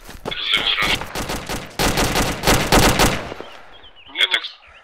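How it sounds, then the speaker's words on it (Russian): Bursts of automatic gunfire in the military video game ArmA 2 ACE, rapid clattering volleys in clusters with brief gaps, loud and close, a voice calling out briefly between shots. "Ай, стреляют."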